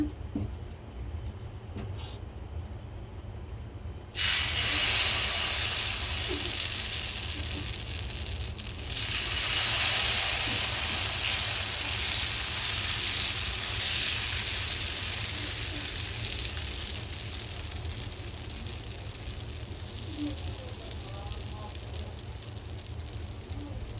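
Podi dosa batter cooking on a hot pan over a low flame, a broad steady sizzle that jumps louder after a brief quieter start and then holds for a long stretch, with no voices.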